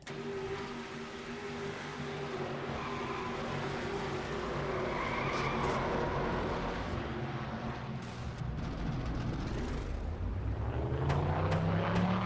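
A NASCAR stock car spinning at Richmond at night in a racing video game, a sustained loud tire skid and engine roar that builds and rises in pitch toward the end.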